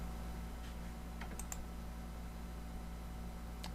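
Someone types a name on a computer keyboard: a few faint, scattered keystroke clicks over a steady low hum, with no talking.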